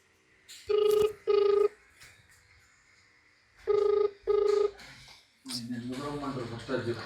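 A phone rings in two paired double bursts separated by a pause of quiet, then a voice starts talking nearby.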